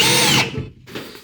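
A power drill whirs loudly for under half a second, drilling a hole in a 1993 Polaris Indy XLT 580 snowmobile panel, then winds down and stops, followed by a brief faint rattle.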